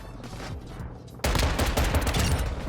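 Rapid pistol fire in Call of Duty MW2, a sudden loud burst of closely spaced shots after about a second of quieter game noise, continuing to the end.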